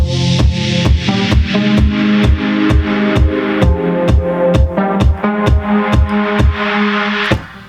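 Disco beat with a punchy four-on-the-floor kick pumping side-chained synth chords, steady driving rhythm of evenly spaced hits, loud and alone with no talking.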